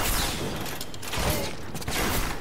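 In the video game Bioshock, a crossbow fires steel-tipped bolts, heard as a dense run of close, sharp bursts and mechanical clatter that comes in uneven waves.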